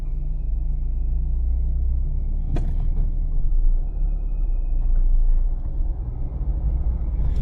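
A car engine gives a steady low rumble from inside the moving car, with a couple of brief sharp knocks and a faint high tone over the drone.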